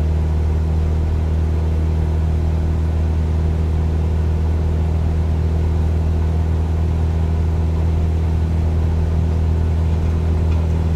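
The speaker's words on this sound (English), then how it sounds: "And give it full throttle on the takeoff." A Cessna 172 engine runs at full throttle on the takeoff roll, a loud, steady, droning roar with a strong low hum that holds without a break throughout.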